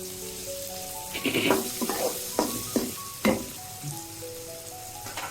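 Chopped onion frying in a pan for a Bengali nilotica fish curry, a steady sizzle with several louder stirring scrapes and clatters, close and fairly loud, no talking.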